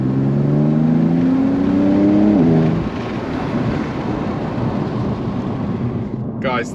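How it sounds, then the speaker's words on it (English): A BMW M3 fitted with an Eventuri intake pulls at full throttle in fourth gear, its engine note rising loudly for a couple of seconds before backing off into wind-buffeted road rumble, with a brief high whine near the end. "20 miles an hour, 4th gear, foot on the floor"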